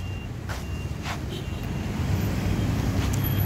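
Morning road traffic off Mandela Avenue and East Bank Bypass Road in Georgetown, Guyana: a steady rumble of passing vehicles with low engine drone, a truck's reversing beeps repeating faintly, and some wind noise.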